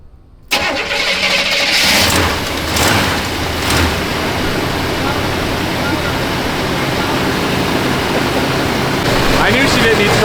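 A GM LS7 V8 fitted in an old Chevy OBS pickup truck cranks briefly and fires up abruptly, then settles into a loud, steady rumbling idle with a few early revs, heard close up.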